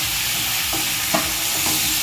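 Pieces of fish fry in a pan in Kerala with a loud, steady sizzle and a few soft stirring scrapes, with no voices.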